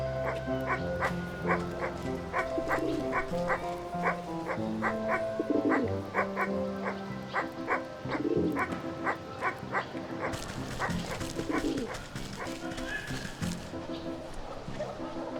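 A dog barks and whimpers in a cartoonish video game. Several short yips repeat over steady, melodic game music, with no talking.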